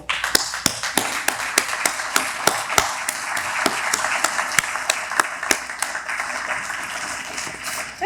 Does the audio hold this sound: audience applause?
yes